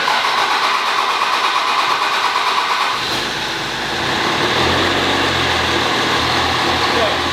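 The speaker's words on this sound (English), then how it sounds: "I want you to hear how this truck starts and then lopes a little bit" A turbo diesel truck engine cranks and fires up, then settles into a loping, uneven idle with rising low rumble, heard close and loud in a dyno shop.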